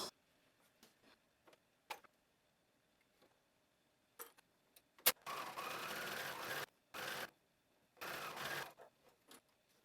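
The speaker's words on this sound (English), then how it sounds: "sewing machine, and we're going to edge stitch along the edge of the seam allowance here" Sewing machine edge stitching along a seam allowance, a few faint ticks and taps followed by several short, steady buzzing runs of stitching separated by brief pauses, close and fairly quiet.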